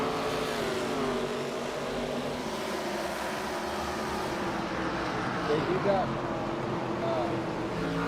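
Pro Cup Series stock cars lapping the Richmond track, a steady loud engine roar with shifting pitch as cars pass, under continuous race commentary.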